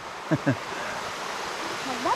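A river flows steadily outdoors, giving a continuous broadband rush of water. Brief voice-like sounds rise over it near the start and end.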